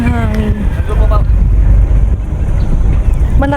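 Strong wind buffets a large two-deck boat, a loud low roaring rush over water, with a person talking briefly at the start and again at the end.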